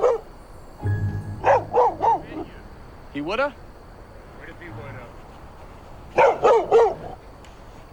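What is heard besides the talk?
dog barking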